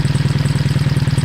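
A Triumph motorcycle engine idles with the exhaust baffle fitted, giving a close, steady, even-pulsed thrum with a regular rhythmic beat throughout the brief span.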